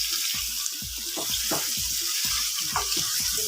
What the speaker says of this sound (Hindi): 2 से 3 मिनट हम इसको फ्राई कर लेंगे।